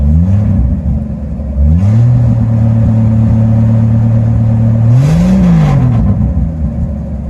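A Ford Maverick engine idles loud and close, then revs up sharply, holds a steady raised speed, and blips once more before settling back.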